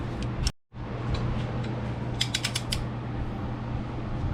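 Ratcheting wrench clicking as oil pan bolts are run down snug into aluminum threads on a 6.0 LS engine, a brief break followed by steady mechanical creaking and a short run of sharp ratchet ticks, close up.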